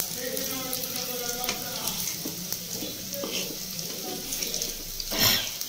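Rice-flour coated fritters fry in a pan over a low gas flame, a steady close sizzle broken by a few clinks and stirring sounds, with a brief louder burst near the end.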